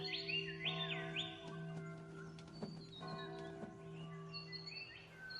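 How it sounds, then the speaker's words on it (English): Birds chirp and tweet in a spring park, a mix of bright whistled calls and short trills set against a steady low hum, moderately quiet and without speech. "It's spring, and the air is filled with birdsong."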